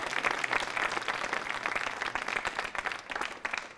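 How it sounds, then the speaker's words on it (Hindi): A crowd at a hospital quiz show claps for a contestant. The applause is dense and continuous at moderate level and swells and fades slightly across the few seconds. "सीता के लिए तालियां बजाइए जोरों से"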